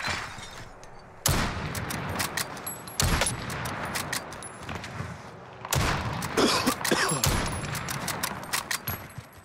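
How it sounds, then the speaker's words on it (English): Sniper rifle shots and other gunfire in Call of Duty Warzone on Rebirth Island at night, several sharp loud cracks spread among busy game noise, with a voice talking now and then. "Oh, he just got sniped out of the air."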